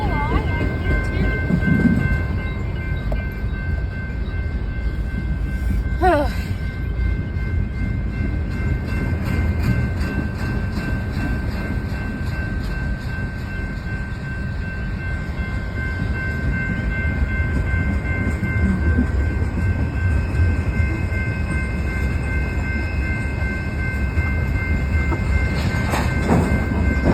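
A BNSF train rolls past steadily for the full length, with continuous low rumble and wheel-on-rail noise, a couple of brief sharp squeals or horn-like bursts, and faint voices in the background.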